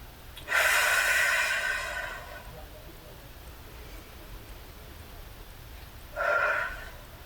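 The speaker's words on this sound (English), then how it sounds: "Take a few deep breaths here." Two deep breaths during a fitness stretching exercise: a long, loud inhale-exhale near the start, then a shorter, softer breath near the end, with quiet room tone between.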